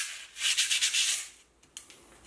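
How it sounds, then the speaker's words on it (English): Light sanding of a laser-cut part: a few quick scratchy rubbing strokes, close and fairly soft, followed by a couple of small taps and handling noises. "we're going to use a little bit of light sanding just to remove that"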